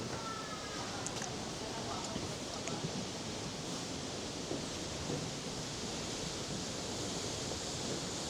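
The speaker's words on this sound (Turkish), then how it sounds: "Güzel bir şelale de var." Near a fortress in Tbilisi, a waterfall pours in a steady, dense rushing roar that stays even and close throughout.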